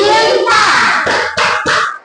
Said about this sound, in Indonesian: Tepuk lambang Pancasila